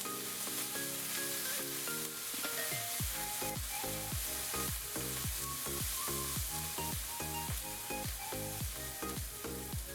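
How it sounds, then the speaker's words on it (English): Spices and chicken sizzle in a wok as they are stirred, a continuous frying hiss under a steady rhythmic musical beat, with no talking. "Then I stir everything together so those flavors can start to meld."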